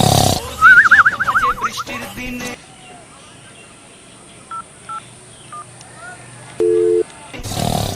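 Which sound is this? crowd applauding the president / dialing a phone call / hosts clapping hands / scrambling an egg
dialing a phone call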